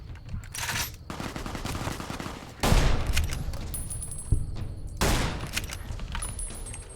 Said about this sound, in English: So that's the SMG.